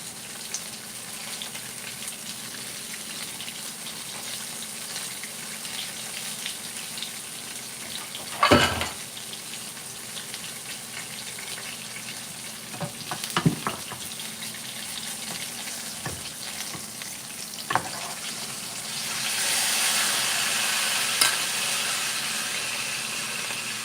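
Kingfish fries in a warped pot on a stove, with a steady crackling sizzle throughout. A few sharp clanks and taps break in, and the hiss swells louder near the end.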